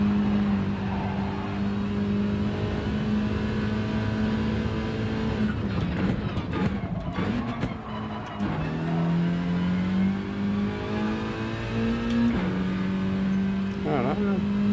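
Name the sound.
VW Scirocco engine held flat out in racing video game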